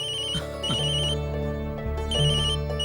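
Phone ringtone repeating steadily through a domestic scene in a Tamil TV serial, an incoming call chiming clearly over a low background hum with no talk.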